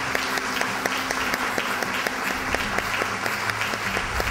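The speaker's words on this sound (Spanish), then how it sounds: "yo en este momento pediría un aplauso para estas mujeres." Sustained crowd applause at a Women's Day ceremony, even and continuous, with a faint regular beat of claps running through it.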